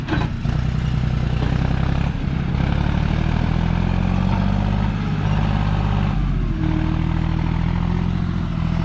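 A farm tractor used for planting sugarcane runs with a loud, steady engine drone and a rough rumble that continues without a break from start to finish.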